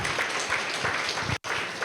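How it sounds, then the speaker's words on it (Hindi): An audience claps loudly to welcome and honour Brijmohan Bhai ji at a Brahma Kumaris gathering, dense steady applause across the short stretch with a momentary break near the end. "भाई जी के स्वागत में, सम्मान में बहुत जोरदार तालियां।"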